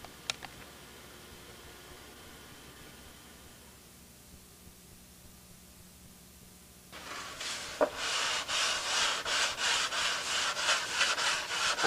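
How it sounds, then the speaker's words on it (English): A long T-bar sanding block rubs back and forth over a wood surface in steady, close strokes, starting after several seconds of near silence and continuing rhythmically to the end. "Get all the sanding done."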